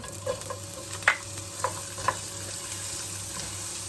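Onion and ginger frying in a pot as the base of a catfish stew, a soft steady sizzle with a few light clicks and taps of a utensil early on.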